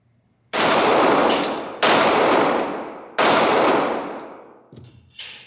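Three loud, close Springfield Hellcat pistol shots ring out at steady intervals, each blast followed by a metallic clang from steel flapper targets and a long fading echo, with a fainter ping near the end.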